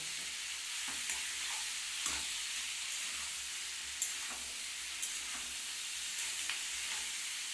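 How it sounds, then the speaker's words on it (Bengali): Soybean chunks fry in mustard oil with a steady, close sizzle, broken by a few sharp spoon taps and stirring scrapes against the pan. "যেহেতু সর্ষে তেলটা দিয়েছি তার জন্য একটু ভাজতে আমার এক মিনিট টাইম লাগবে"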